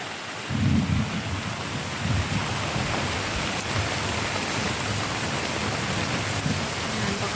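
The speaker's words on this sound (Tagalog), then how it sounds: "Ayan, pakalakas ng ulan o." Heavy rain pours steadily on a house, leaking inside, with a deep rumble of thunder rolling underneath, a dense, constant wash of noise with no voices.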